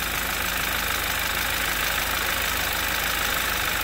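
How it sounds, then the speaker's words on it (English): A 2011 Audi TT Quattro 2.0T TFSI engine idles close up, a dense, steady mechanical drone threaded with light lifter clicking and no voices. "Little clicky, but those lifters, the lifters that don't have oil in them will fill up."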